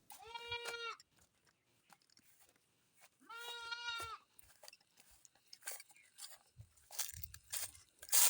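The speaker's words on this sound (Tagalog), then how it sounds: "Kunin natin yung kambing." A goat bleats twice on a farm in rural Pangasinan, each call a loud wavering cry, followed by quieter rustling, crunching and scattered knocks nearby.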